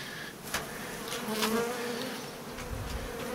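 Honey bees balling a queen bee in a hive produce a steady close buzzing drone, with a few sharper wingbeat bursts rising and falling throughout.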